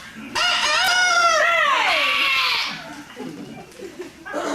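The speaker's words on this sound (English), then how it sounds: "There's that damn rooster again." A single loud rooster crow rings out close by during a stage play, a long rising-and-falling call, followed by faint voices and background bustle.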